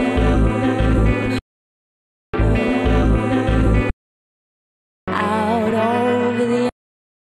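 Sampled opening of a song plays in three loud, separate excerpts with full bass and vocal melody, each cut off by silence.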